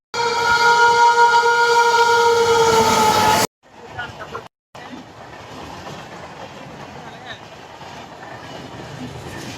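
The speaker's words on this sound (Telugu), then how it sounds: "ట్రైన్ వస్తుంది, పరిగెత్తుకు పోతున్నారు ఇలాగా." A Chennai suburban local train arrives at a station, its loud sustained horn blaring first, then a steady rumble of wheels and carriages that continues near and loud, with voices faintly audible.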